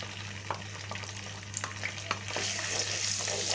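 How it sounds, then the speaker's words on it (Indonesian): Ground spice paste for cilok frying in hot oil, a soft steady sizzle with scattered stirring scrapes and clicks, growing louder and denser toward the end, with no talking. "Kita goreng ya."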